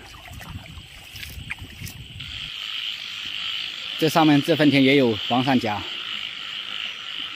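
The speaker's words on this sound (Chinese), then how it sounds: "这里全部是青蛙在叫。" Frogs croak loudly in a rural rice paddy at night, a dense burst of rapid, repeated croaks in the middle, with someone talking briefly before them.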